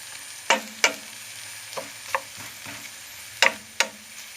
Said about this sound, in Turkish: Soğanlarımızı soteliyoruz.